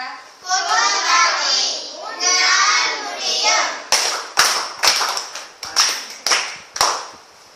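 Children in a classroom clap together in praise, a series of sharp rhythmic bursts of applause following a stretch of excited kids' chatter, close and fairly loud.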